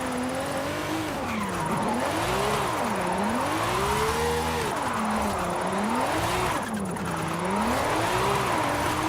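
A Ferrari drifting in Forza Horizon 5, its engine revving up and down in a continuous wavering loop as the car slides, with steady tire squeal hissing underneath, loud and close throughout.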